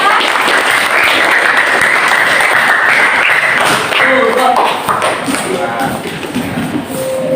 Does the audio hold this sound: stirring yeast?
no